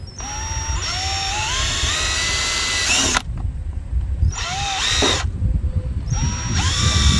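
A power drill bores out a plastic rivet head on a 2010 Chevy Silverado 1500LT door, sounding in three loud whining bursts that rise in pitch as the motor spins up, with brief pauses between runs.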